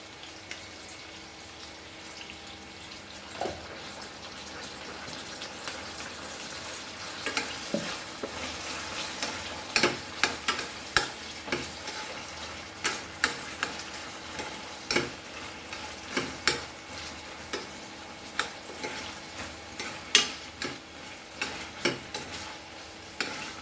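Ginger garlic paste fries in a pan for a Goan mackerel curry, a steady soft sizzle with sharp intermittent clicks and taps from stirring, close but quiet.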